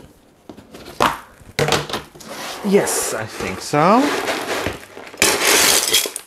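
Pebbles clink and rattle in short bursts while being handled for the top layer when potting a Phalaenopsis orchid, mixed with rubbing and crunching of pumice, close and fairly loud, with a person speaking briefly.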